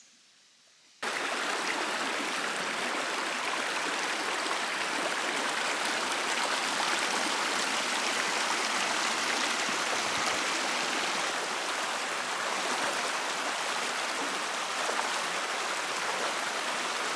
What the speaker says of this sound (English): So I'm just approaching the waterfall now, and it's only a small one, but it's flowing really well